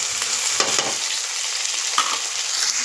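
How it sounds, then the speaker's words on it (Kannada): A tomato added to carrots, beans, potato and capsicum frying in a pan for shavige bath, giving a constant close sizzle with two or three soft stirring scrapes and no talk. "ಒಂದೇ ಒಂದು ಟೊಮೆಟೊ ತೊಗೊಂಡಿದ್ದೆ ಅದನ್ನು ಹಾಕೊಂಡಿದ್ದೀನಿ"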